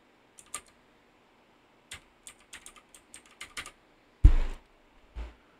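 Someone types a new file name on a computer keyboard while configuring a DNS server on Debian 11 Linux: sparse, crisp clicks in an uneven rhythm, then a heavier key thump, likely Enter, close by in a quiet room.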